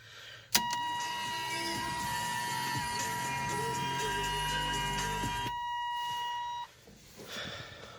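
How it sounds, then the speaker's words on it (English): A 1992 Chevy S10 pickup with a 2.8 V6 cranks and fires up after an oil pressure switch replacement, followed by a steady, close idle with a sustained chime tone over it that cuts out near the end. "fire the truck up and check for leaks."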